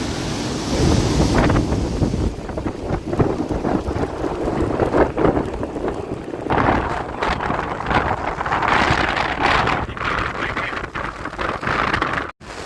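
Swollen floodwater rushes along a river fed by several rivers and dam outflow, a continuous loud roar with wind buffeting the microphone.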